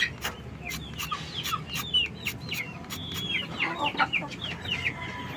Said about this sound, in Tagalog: nandito tayo sa kulungan ng manok